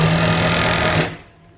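An electric sewing machine stitches a double-folded sleeve hem on a kameez in one steady, loud, close whir for about a second before stopping abruptly.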